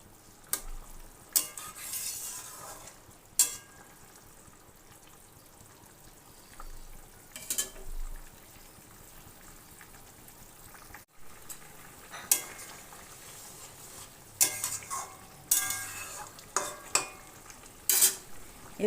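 A pot of hilsa fish curry with green banana simmers, with a faint steady bubbling bed broken by intermittent clinks and stirring knocks of a utensil against the pot; no talking.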